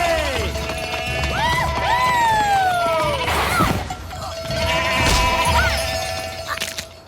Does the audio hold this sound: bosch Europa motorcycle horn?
no